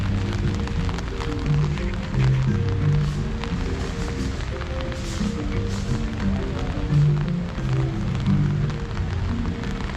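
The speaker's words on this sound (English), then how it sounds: "Rainy morning here at Animal Kingdom." Steady morning rain falls at Animal Kingdom, a dense, continuous patter on surfaces with scattered louder drips, close and loud throughout, with faint low background tones mixed in.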